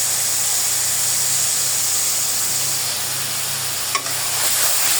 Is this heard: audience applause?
no